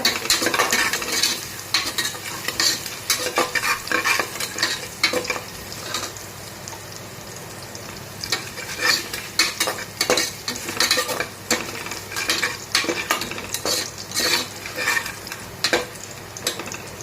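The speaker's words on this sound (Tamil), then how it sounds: "நல்லா மிக்ஸ் பண்ணி விடுங்க வரமிளகாவையும் போட்டுக்கோங்க" A spoon repeatedly scrapes and stirs dried red chillies and crushed garlic in a sizzling pot for one-pot rasam rice, with steady frying hiss and irregular clinks of metal against the pan.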